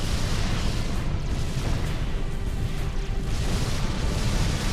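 Starship weapons blasting away in the space strategy game Sword of the Stars, a loud, continuous barrage of booming explosions and weapon fire with no clear breaks.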